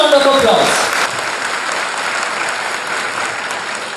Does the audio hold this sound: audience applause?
yes